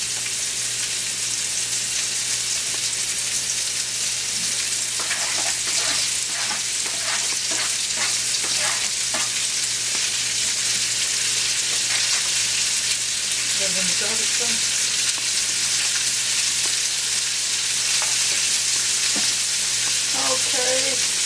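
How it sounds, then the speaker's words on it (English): Onions sauté in a pan for beef meatballs with gravy, a loud continuous sizzle with bursts of stirring scrapes and clatter up close. "We're going to let these saute a minute."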